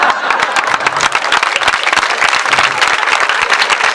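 Audience applause at a Pro Loco village festival evening show in Casaluci, dense, steady clapping from a crowd filling the whole stretch, loud and close with no talk over it.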